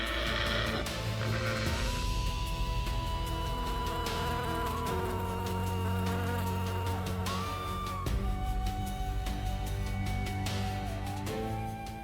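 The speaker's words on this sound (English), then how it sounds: "the air buzzes with furious insects" A furious swarm of bees buzzes around a torn-open hive as a predator raids the comb, the insect drone heard loud and continuous, blended with a dense music bed throughout.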